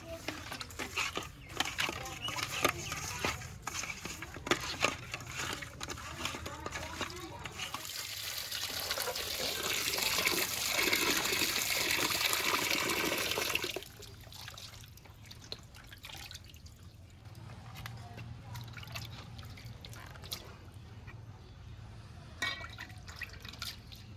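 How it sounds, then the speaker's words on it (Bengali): Fish are washed with water and salt, with close splashing, dripping and trickling throughout and a heavier rushing flow in the middle stretch before it returns to lighter handling in water. "মাছগুলো জল দিয়ে ভালো করে ধুয়ে নিয়েছি, এবার লবণ দিয়ে ধুয়ে নেব।"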